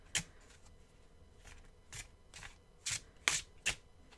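Deck of cards being shuffled by hand, a series of about eight short, crisp riffling bursts at an uneven rhythm, close and fairly quiet with nothing else over them.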